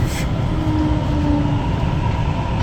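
An SMRT train pulls into Bayshore terminal station with a steady rumble and a hiss of rolling wheels. The sound stays continuous and fairly loud throughout, with no talking.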